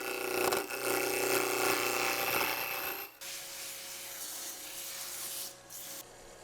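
Abrasive sanding on a recycled skateboard handle turning on a lathe, a continuous close rubbing hiss with the whine of the machine, shifting in tone midway and running without speech.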